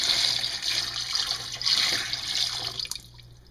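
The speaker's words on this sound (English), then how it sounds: "I will just top that off with more cold water and let them sit for just a little bit." Cold water poured from a pitcher over freshly boiled eggs in a pot, a steady splashing pour that runs for a few seconds before stopping, close and alone.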